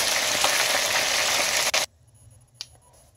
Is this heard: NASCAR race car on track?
no